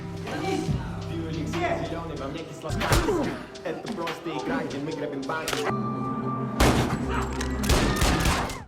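Gunfire and impacts in an action film fight scene, sharp bursts of shots and heavy thuds scattered through the passage, laid over music and film sound effects.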